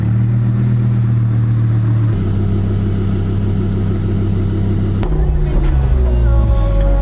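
An Audi R8 engine runs loud and steady, then a sharp shift in pitch marks a downshift, followed by a rougher, rising rev with gear-change steps near the end.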